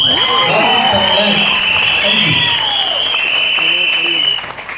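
Applause and cheering from a seminar audience in a hall, a dense steady wash of clapping with whistles and crowd voices throughout, easing slightly at the very end.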